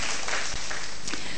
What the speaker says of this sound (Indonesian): Berikan tepuk tangan yang meriah buat Allah yang baik.